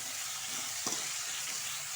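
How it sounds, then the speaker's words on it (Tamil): Boiled bitter gourd sautés in a pan, giving a faint, even sizzling hiss with one brief clink partway through, no voices. "நல்லா வதக்கிக்கலாம்."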